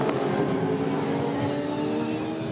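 Supercars race cars roar past at around 270 km/h, one loud engine sweeping by close and fading into a sustained high-pitched drone, with no talk over it.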